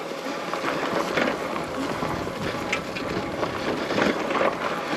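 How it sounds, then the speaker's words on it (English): Wind rushes past while riding an Aventon Aventure e-bike along a tree-covered trail, a steady, close buffeting roar across the microphone with gusty surges and no clear speech. "You get a lot of speed up,"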